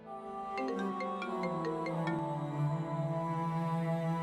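A phone ringing with a call from a hospital, a repeating electronic ringtone melody of bright short notes over a steady sustained tone, fairly loud and continuous throughout with no talking.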